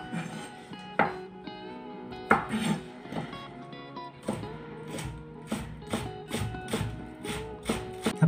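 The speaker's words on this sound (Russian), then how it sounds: "Мне нужно нарезать сюда пучок зеленого лука" A knife chopping a bunch of green onions on a board while making Korean-style cabbage salad, a run of sharp, evenly spaced taps that grow more regular toward the end, close and clear with no talking.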